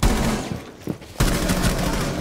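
Rapid bursts of gunfire from a Rainbow Six Siege ranked match, loud and dense at the start, easing briefly, then resuming as a sustained volley through the rest of the moment.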